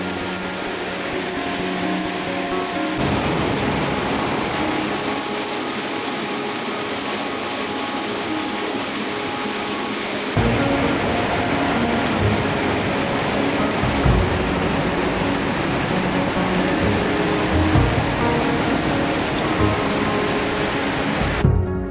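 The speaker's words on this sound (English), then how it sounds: "the Storula, its rapids dancing wildly through the landscape" Rapids of the Storula river, a dense steady roar of rushing water that swells louder partway through, with no voices.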